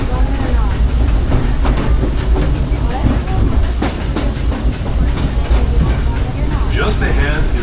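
The Disneyland Railroad train rolls along its rails with a steady, close rumble and rhythmic clickety-clack wheel beats running throughout.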